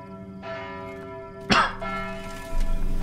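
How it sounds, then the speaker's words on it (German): A heavy bell tolls inside The Witcher 3: Wild Hunt, Hearts of Stone, with one sharp strike that rings out in long, sustained metallic tones over a low ambient hum before a second swell of sound rises. "Und da läutet die Glocke."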